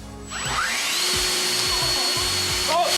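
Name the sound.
electric fan running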